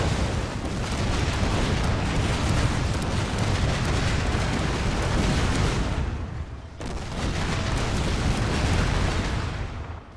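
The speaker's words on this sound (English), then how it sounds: "we're gonna leave it up to the cannon to fire on its own at this point" Cannon and artillery barrages in Fall of the Samurai, a loud, dense wall of booming blasts and rumble that roars on without a break, dipping briefly about two thirds of the way through.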